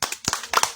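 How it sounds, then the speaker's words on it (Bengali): A few quick hand claps ring out close by, about four sharp bursts in under a second with short gaps between them. "এটা হাততালি হোক।"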